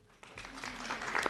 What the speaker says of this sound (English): no more clapping after this